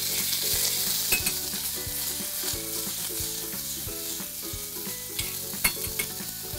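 Ginger and garlic sizzle and fry in a hot pan while being stirred, a steady loud crackle with scraping strokes of the spoon throughout, no voices.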